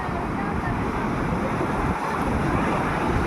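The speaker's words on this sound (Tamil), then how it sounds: "கடல் அலைகளோட சத்தத்துக்கு நடுவில்" Sea waves wash steadily onto a pebble beach beside a coastal temple near Uthandi on Chennai's East Coast Road, a dense continuous surf roar with some wind noise and no clear breaks.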